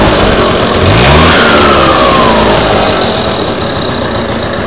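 A 1978 Express moped with a swapped engine runs steadily and revs once early on. The buzzing motor is loud and close, then slowly eases down, with no talk over it.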